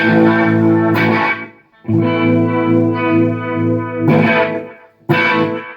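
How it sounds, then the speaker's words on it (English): Electric guitar through Bo's harmonic tremolo and delay pedal, sustained chords pulsing with a wavering tremolo and delayed repeats, played alone in several loud phrases separated by brief gaps. "it sounds like to me this trem is getting delayed"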